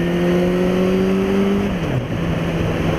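A Suzuki GSX650F motorbike engine holds a steady tone, then the pitch drops briefly as it shifts and settles lower. The engine is loud and close, with no voices over it.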